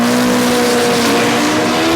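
A 2003 Toyota Tacoma race truck with a swapped Honda K24 engine screams at high revs, close and loud, with a sustained engine roar and tire noise across the whole stretch.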